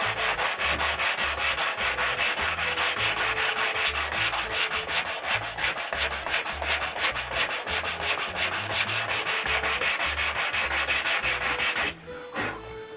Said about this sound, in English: What I'm going to do first of all is sand them down